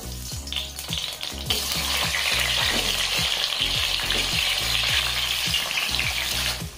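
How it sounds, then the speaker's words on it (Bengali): Pointed gourd pieces fry in hot mustard oil over a medium flame, a steady close sizzle broken by regular clunks and scrapes of stirring. "এবারে এই তেলে আমি পটলগুলো ভেজে নিচ্ছি।"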